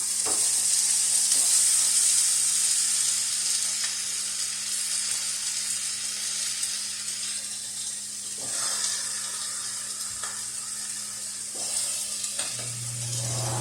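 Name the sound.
onions and tomatoes charring flat side down in a pan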